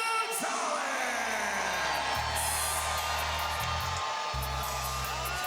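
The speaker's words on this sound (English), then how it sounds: "Crowd losing its mind." At a Reality Fighting MMA cage event, a crowd roars, whoops and yells continuously in a dense, loud wash as a fighter is introduced, with a booming announcer voice over it.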